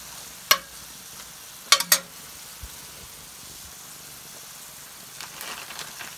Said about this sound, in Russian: Обжариваем гребешки